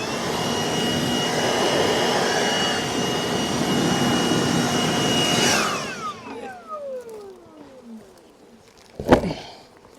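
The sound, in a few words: blower blowing bees off the top of a honey super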